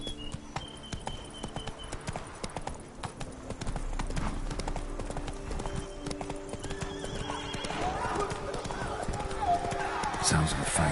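Roach the horse galloping in The Witcher 3: Blood and Wine, steady clip-clop hoofbeats with a whinny, amid game music and ambient sound, continuous and growing slightly louder.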